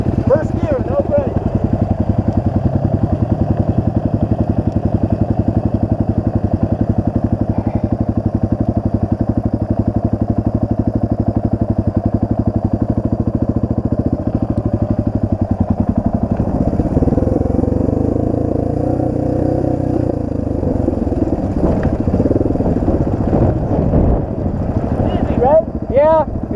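An enduro motorcycle rides steadily in first gear on a trail, its engine droning loud and close for the whole stretch with wind buffeting, and a brief change in pitch near the end.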